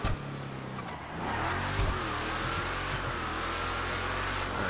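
Squatted truck engine in the FiveM video game drives steadily with a continuous mid-pitched drone, briefly dipping then surging into a sustained, fairly loud run.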